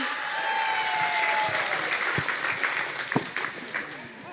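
Audience at a Pemalang event gives a broad, steady applause, moderately loud with a few sharper claps near the end; no voices are heard.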